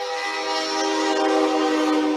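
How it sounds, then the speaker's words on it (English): A train rumbles past with its horn sounding, a loud sustained multi-tone blare layered over steady rail noise throughout. "the train is coming. You guys are going to hear it."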